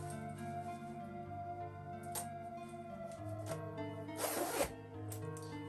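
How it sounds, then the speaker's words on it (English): A Resident Evil Claire Redfield jacket is zipped up, giving a short rasping zip that peaks sharply near the end over a faint steady background hum, with no talking. "So let's just zip this up."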